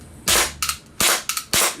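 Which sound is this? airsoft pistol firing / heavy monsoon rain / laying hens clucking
airsoft pistol firing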